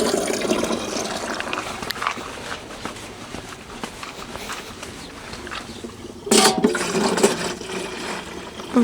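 Rainwater pours into a watering can as a continuous gushing, trickling stream, with a louder splashing surge near the end, close by and without speech.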